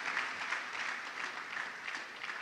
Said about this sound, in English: Let's clap for our Vice Chancellor